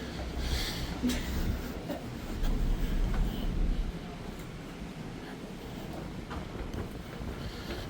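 Steady wind buffets the microphone on the open deck of the Carnival Panorama cruise ship at sea, a continuous broadband rush that is louder in the first half and then eases slightly. No one speaks.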